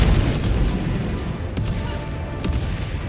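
A cluster bomb airstrike in the video game Helldivers 2 produces a dense rolling barrage of booms and pops, loud and continuous with several sharper bursts, and no talk.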